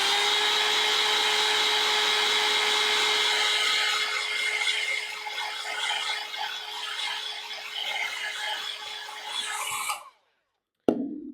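A hair dryer blowing on wet watercolour paint, a loud, steady, close whine with a constant tonal hum, shifting slightly as it moves, then abruptly switched off before a brief click.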